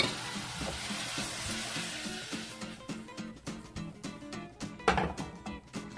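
Broccoli dropped into a little butter in a pan sizzles loudly at close range, a rush of crackling and popping with clattering pieces that settles into a steady fry, no voices.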